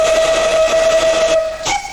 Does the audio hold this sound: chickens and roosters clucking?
no